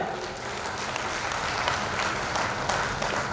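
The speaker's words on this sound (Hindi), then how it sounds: "जोरदार तालियों से उनका स्वागत कीजिए।" A crowd applauding continuously, a dense wash of clapping that holds steady throughout.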